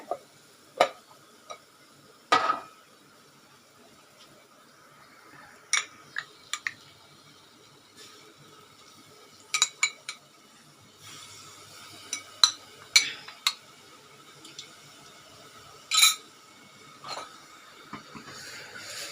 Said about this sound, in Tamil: நல்லா மிக்ஸ் பண்ணிப்போம்